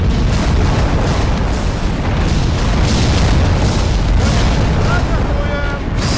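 Dense, continuous booming and blasts from artillery in a WWII Operation Bagration strategy video game, loud and relentless, with shots and explosions overlapping throughout.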